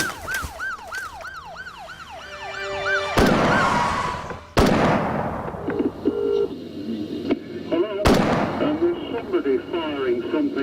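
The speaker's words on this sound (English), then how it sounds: "Firing something which sounds like an automatic rifle." Automatic rifle gunfire during the 1987 Hungerford shooting in England, heard as a few sharp, loud bangs after a wailing siren, with a voice speaking in the background.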